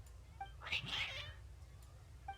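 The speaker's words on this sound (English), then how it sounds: "Your cats seem pretty worked up." Cats meow and caterwaul in the video game Genshin Impact, with one drawn-out, rising cry near the middle and faint shorter mews around it, over a low steady hum.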